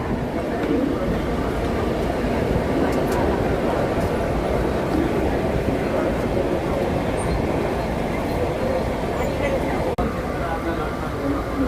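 Mumbai suburban local train on the Churchgate–Virar fast run, a steady loud rumble of the moving coaches filling the whole stretch, with people talking over it.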